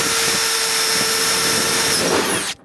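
A power drill bores a 3/8-inch hole for a bolt to mount a Craftsman 46.8-inch truck box. One loud, steady burst of whirring runs close for about two and a half seconds, then stops abruptly.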